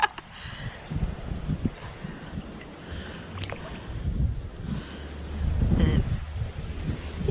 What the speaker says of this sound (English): The wind's blowing against us, so it's hard to go.